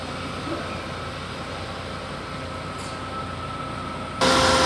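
A push-button-start car's engine idles smoothly as a steady, even hum that holds level throughout and swells abruptly louder in the final half second.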